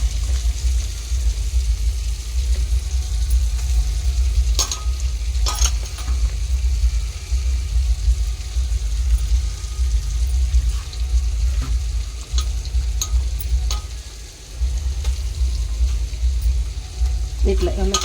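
Chicken pieces frying in oil at medium-low heat for homemade KFC-style chicken, a steady close sizzle with low rumbling bubbles and occasional clinks of turning the pieces.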